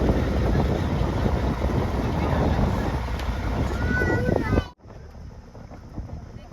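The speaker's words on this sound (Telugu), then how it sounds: "చాలా సాఫ్ట్ గా బోట్ సౌండ్, ఆ వాటర్ సౌండ్" A boat glides softly over calm water near Bhavani Island, its low motor rumble and wash mixed with wind buffeting the microphone, then cutting to a quieter, thinner ambience for the last couple of seconds.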